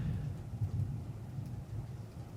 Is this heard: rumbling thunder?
yes